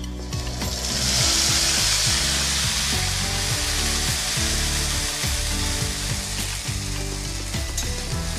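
Onion, garlic and ginger paste fries with potatoes in a pan for mutton-fat pea ghugni, giving a steady, close sizzle with occasional stirring scrapes throughout, no voices.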